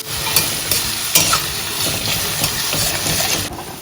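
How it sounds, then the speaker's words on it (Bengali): Salted onion fries in a pan with green chili and black cumin, making a loud continuous sizzle broken by a few sharp clicks and scrapes from stirring. No one speaks. "পেঁয়াজটা হালকা ভাজা ভাজা হয়ে গেছে"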